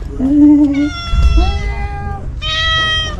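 A pet cat meows loudly and close by at a pet care shop, giving several drawn-out, wavering calls in a row with a short pause before the last one.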